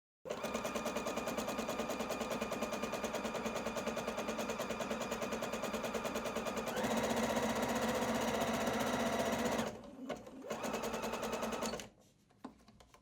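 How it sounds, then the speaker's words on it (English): A Juki HZL70-H sewing machine sews an overcasting stitch with its overcasting foot, a fast, steady mechanical clatter running close and continuous. The pace shifts briefly near the end before the machine stops. "Now place the fabric against the fabric guide on this overcasting foot and then start sewing."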